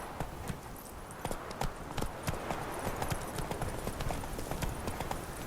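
Roach, a horse in the 2015 game Witcher 3: Wild Hunt, trots with a steady run of clip-clopping hooves over a constant outdoor backdrop. The hoofbeats are close and evenly paced. No one speaks.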